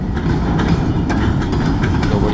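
Freight cars roll steadily past up close, wheels clacking over rail joints in a continuous loud rumble with no voices.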